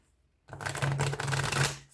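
A deck of cards is riffled once after a short silence, a quick fluttering burst of snapping cards up close.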